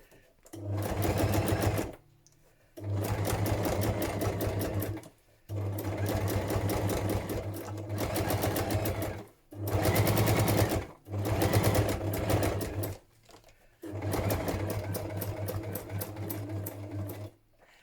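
A sewing machine runs a straight stitch slowly through a thick stack of fabric, loud and close, in six sustained humming bursts of a second or two each separated by brief pauses.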